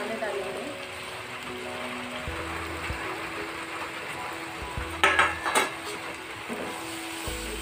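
Spices go into a pan for a papaya vegetable dish and get stirred. Soft scraping and clinks of a utensil against the pan come under a woman's speech, with a brief louder clatter midway.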